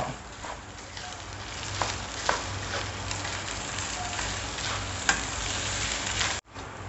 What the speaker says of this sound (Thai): ข้าวหอมมะลินะครับ ที่เราซาว เรียบร้อยแล้วใส่ลงไปผัดครับ